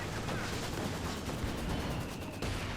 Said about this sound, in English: Mortar fire here.